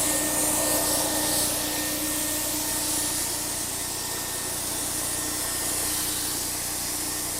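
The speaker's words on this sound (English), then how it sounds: "Sounds like a vacuum cleaner." A loud, continuous hissing roar from a car paint spray gun, steady and whooshing much like a vacuum cleaner running nearby.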